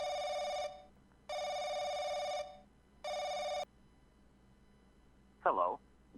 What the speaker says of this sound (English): you should really just put that phone on silent if you're never going to answer it